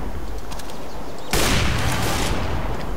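AWP sniper rifle shot in Counter-Strike: Global Offensive, a single sudden loud blast with a ringing tail over quieter game ambience.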